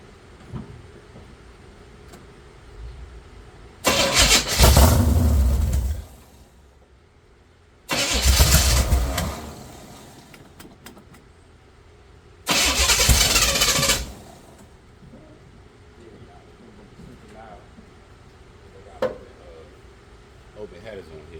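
A Chevy 454 V8 running open headers is cranked in three separate attempts, each a loud, roughly two-second burst of cranking and catching that dies back to near quiet, with someone talking in between.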